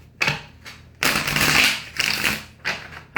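Tarot cards being shuffled up close: quick riffling bursts with a longer flurry in the middle, then a few shorter shuffles, no speech.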